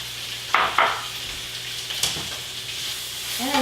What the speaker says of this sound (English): I'm just sauteing this until it wilts down a little bit